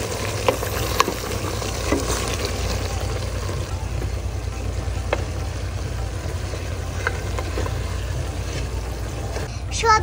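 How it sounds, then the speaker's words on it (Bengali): Vegetables and lentils sauté in a pan for vegetable khichuri with a continuous dense sizzle and occasional sharp clinks of a stirring spoon, close and steady, while a voice is heard faintly underneath. "সবজি ও ডাউলও ভালো মতন কষিয়ে নিয়েছি।"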